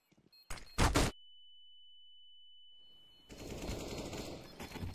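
A short, loud burst of rapid video game gunfire is followed by a steady high electronic tone, then a rush of noisy background sound.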